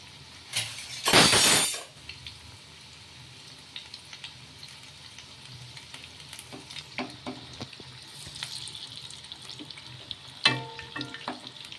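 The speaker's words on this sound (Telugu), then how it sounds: "ఇవి గోల్డెన్ కలర్ వచ్చే వరకు కాల్చుకోవాలి." A sharp hissing burst as snacks drop into a hot pan, then a low continuous frying sizzle with scattered clinks and pops.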